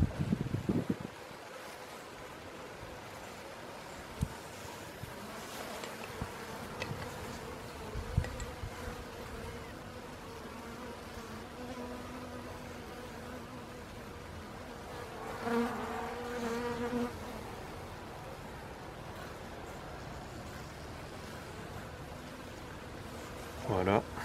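A steady, low buzzing of many honeybees around a hive during an oxalic acid winter treatment fills the air, continuous and moderately faint, with occasional louder swells as insects pass near.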